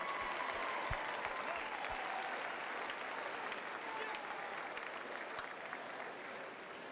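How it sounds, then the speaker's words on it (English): A university student section at a Yell Like Hell pep rally applauds in a steady distant wash of clapping, with a few sharper individual claps standing out throughout. "Please give yourselves a round of applause."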